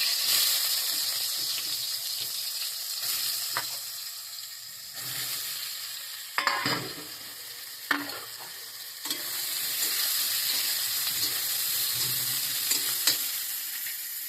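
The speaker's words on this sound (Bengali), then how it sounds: "এবার সোয়াবিনগুলো আমি ভেজে নেবো তেলের মধ্যে সোয়াবিনগুলো ছেড়ে দেবো" Soybean chunks sizzle in hot oil in a wok, a continuous close frying hiss broken by a few stirring clinks and a brief lull before the sizzle resumes.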